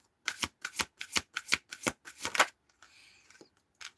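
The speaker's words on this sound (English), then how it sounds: "Shuffle." A deck of tarot cards is riffle-shuffled up close, about eight quick crisp bursts in a steady rhythm, followed by a softer rustle and a brief tap, with no talking.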